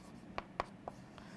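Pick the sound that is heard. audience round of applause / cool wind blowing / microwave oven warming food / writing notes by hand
writing notes by hand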